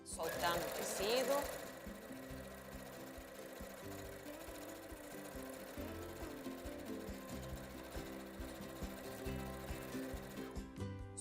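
Sewing machine stitching a straight seam in fabric, a steady fast mechanical whir and patter running close and continuous, with a louder rise at the start and a brief stop near the end.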